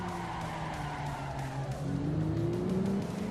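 Race car sliding in the Assetto Corsa sim racing game, with a steady engine drone and rising pitch as it revs, tire noise running continuously for a few seconds with no talk.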